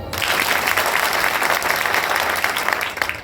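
Men at a kirtan gathering break into dense, loud group clapping that holds steady and then tapers at the end.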